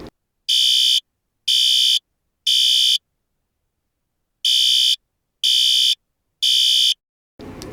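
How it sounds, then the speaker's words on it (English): A fire alarm horn sounds three loud beeps, pauses, then three more, in a steady temporal pattern, alone and close. "Horns use a temporal 3 for fire alarm. 3 blasts, pause,"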